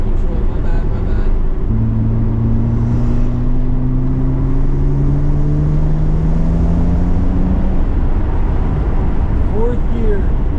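A BMW 335i with an upgraded VRSF intercooler and raised boost accelerates hard in fourth gear, its engine note climbing steadily under heavy road and wind roar heard from inside the car.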